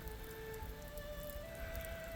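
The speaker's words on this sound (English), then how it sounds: "soaking wet in the wind and the rain in almost freezing temperatures" Steady, faint rain patters at a wet, windy campsite by Strawberry Lake in near-freezing weather, a soft continuous hiss with faint tonal hum behind it and no talking.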